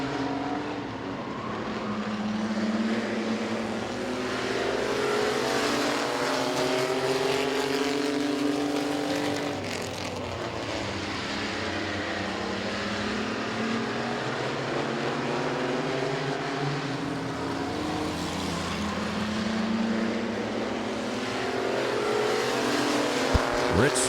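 Mini trucks racing on a dirt speedway at Midvale Speedway, engines roaring together in a steady pack drone with rising and falling revs for the whole stretch, a race announcer talking over the noise throughout.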